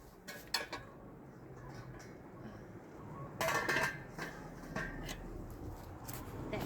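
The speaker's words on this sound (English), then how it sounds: "I'm going to just put the lid on that pot" A metal lid set onto a pot outdoors beside a campfire in a garden, with a couple of faint, brief clinks and clanks against soft background ambience.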